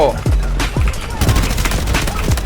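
Rapid bursts of MP5 submachine gun hip-fire in the video game Delta Force, loud and close, with quick repeated shots, booming reports and ringing tails stretching across the clip.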